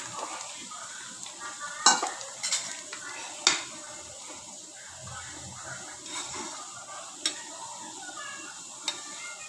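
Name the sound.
stirring ground chana dal into boiling curry pot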